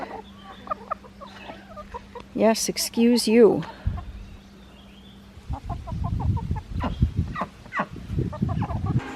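Nearby ducks quacking and honking in a loud burst, followed by softer clucking calls while a person talks briefly.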